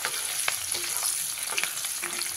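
Cumin, chopped ginger and green chili fry in hot oil in a pan, a bright steady sizzle close up with occasional light stirring scrapes and no voices.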